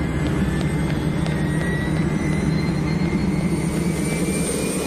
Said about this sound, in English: NASA has a high-altitude jet specially designed to gather space dust.